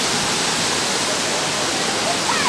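A waterfall in Hong Kong roars as a steady, loud, close wash of rushing water that fills the whole stretch without a break.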